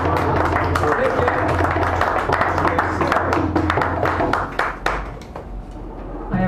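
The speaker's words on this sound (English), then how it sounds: "So give her a nice round of applause." An audience at a poetry open mic in a San Francisco café claps for the next poet, a dense run of close handclaps lasting about five seconds before it thins out.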